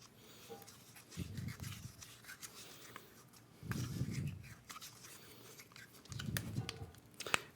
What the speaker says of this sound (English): we're going to want to put some Teflon tape on these fittings that are provided to make sure we have a watertight seal